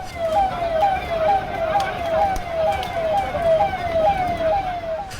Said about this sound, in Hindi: पुलिस की गाड़ियों का सायरन सुनाई दे रहा है